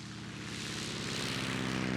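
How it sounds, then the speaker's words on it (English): Boeing-Stearman biplane with a radial engine droning in flight over Lower Saxony, a steady propeller hum that swells slightly louder, heard alone. "The Boeing-Stearman, with its sturdy construction and radial engine, a classic."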